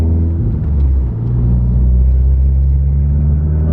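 Tuned VW Golf GTI engine pulling hard in third gear, a loud, steady low rumble with a rising drone, close up and continuous with no talk.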